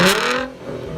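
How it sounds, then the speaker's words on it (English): A Ford Mustang's six-cylinder engine revving loudly through a pair of cardboard exhaust pipes, a close, rising roar that eases off midway and settles into a steady drone, with no talk. "These devices reduce the sound of the 6-cylinder engine installed in the Mustang"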